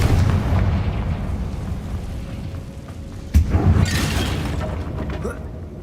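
A Confringo fire spell explodes in the Hogwarts Legacy video game, a sharp blast cutting through steady game rumble and clatter partway through, followed by crackling and fading debris noise.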